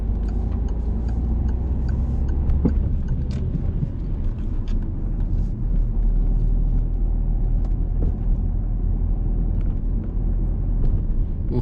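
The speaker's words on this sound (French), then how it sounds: "On accélère encore." A car accelerates on a road during a driving lesson, heard from inside the cabin as a steady low engine and road rumble with faint ticking, loud and continuous without talk.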